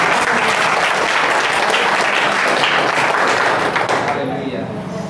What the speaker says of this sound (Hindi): एक जोरदार ताली बजाइए प्रभु के लिए।